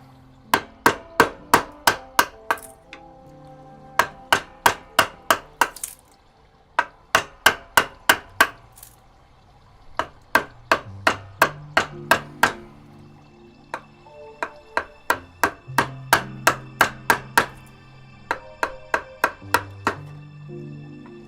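Mallet blows drive a chisel into pine wood during Maori whakairo carving, sharp knocks landing in quick bursts of five to eight strikes, separated by brief pauses.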